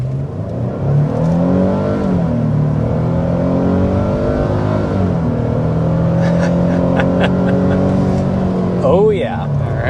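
A 2025 Nissan Frontier PRO-4X truck with a naturally aspirated 3.8-liter V6 under hard acceleration, engine note climbing and dropping through gear changes, loud and close, with a voice speaking over it near the end.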